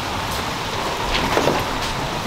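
Rain falls steadily outdoors as a dense, even hiss of drops, close and fairly loud, with no voices over it.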